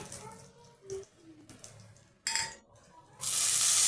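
Cumin, chilli and bay leaf fry in oil in a pan. Soft, intermittent sizzling bursts come in short spurts, then swell into a louder, continuous crackle at the end.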